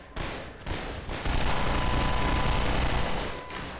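A fast automatic weapon from Gasmask's Armory Redux in Garry's Mod fires a steady, rapid stream of loud shots for several seconds with no voices.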